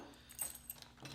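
Two new Schlage deadbolt keys jingle softly as they are handled, with light metallic clinks scattered over about a second in a quiet room.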